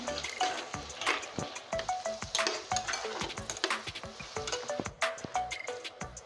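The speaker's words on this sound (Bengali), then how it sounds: "দেখুন পেঁয়াজটা ভেজে নিচ্ছি" Sliced onions fry with salt in a pan as an egg dish is prepared. A continuous close sizzle runs under repeated sharp scrapes and clinks of a spoon stirring against the metal, with no voices.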